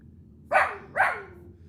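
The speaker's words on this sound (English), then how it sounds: "She's barking at somebody at the window." A dog barks twice at someone outside the window, two sharp, loud, close barks about half a second apart.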